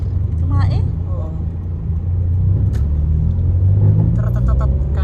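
A vehicle engine rumbles steadily and loudly at close range for the whole stretch, a deep continuous drone with voices talking over it.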